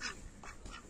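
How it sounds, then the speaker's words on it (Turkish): Ducks and geese call faintly in a village park in Altınköy, Ankara, with a few short quacks and honks over about a second of quiet outdoor ambience. "Burada işte ördeklerimiz, kazlarımız doğal ortamında şey yapıyor."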